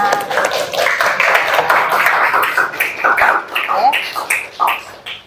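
Students in a classroom clap together after being asked to sit back down, a dense, fairly loud patter of many hands that swells and dips over several seconds, with faint voices underneath.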